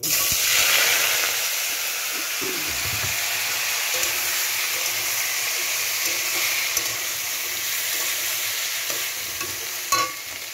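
Salted cauliflower, potato and spring onion fry in hot oil, a steady close sizzle with stirring scrapes and clinks throughout and a sharp utensil knock near the end.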